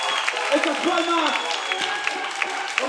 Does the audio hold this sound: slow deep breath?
no